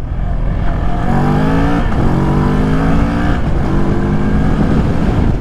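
A two-cylinder motorcycle revs up repeatedly in rising sweeps in second gear toward 6,000 to 7,000 rpm, loud and close, with a throaty growl climbing in pitch between gear pulls.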